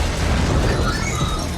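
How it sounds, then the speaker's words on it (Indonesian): Stun grenades blasting in through a window in an action film scene, heard as a loud, dense rumbling burst that fills the whole short moment with no quiet gaps. "Beberapa granat gegar menghantam masuk melalui jendela, melumpuhkan seluruh anggota tim seketika."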